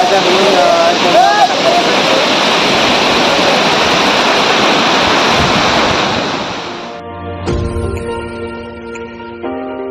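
Kondi Waterfall gives a loud, continuous roaring rush of falling water for about seven seconds, then cuts off abruptly and gives way to quieter tonal sounds.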